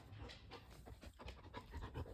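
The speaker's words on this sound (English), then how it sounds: "Oh no, and here comes the dog." A dog pants rapidly and rhythmically close by, its quick breaths steady throughout with no talking over it.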